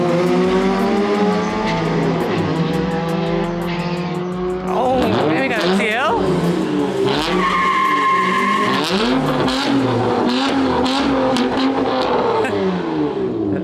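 A fully built hatchback launches hard with loud tire squeal and high revving, skidding tones sweeping up and down amid engine roar, while people talk and shout nearby.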